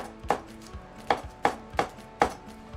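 A knife chops vegetables into thin strips on a cutting board, five distinct sharp thunks at an uneven pace, close and crisp with no voices.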